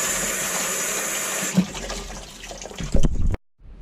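Pennies being washed under running tap water, a close, steady splashing stream that shifts in tone as the coins are moved, with a few knocks before it stops abruptly.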